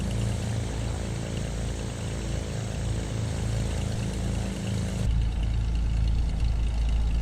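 Engines of a BlackSquare Commander 114 light aircraft taxiing in a flight simulator game give a loud, steady propeller drone, with a low rumble that shifts and thickens partway through. No one speaks over it.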